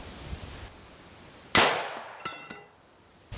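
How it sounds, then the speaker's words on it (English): A rifle fires at a steel target, a single loud sharp crack hitting metal with a ringing clang that decays over a second, followed by a few fainter metallic pings and another brief impact near the end. "So let's get up there and start shooting."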